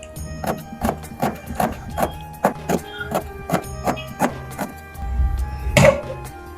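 Small onions sliced into thin, long strips for an ivy gourd egg curry, with a knife tapping a cutting board in a steady run of about a dozen close, crisp chops, then a soft thud.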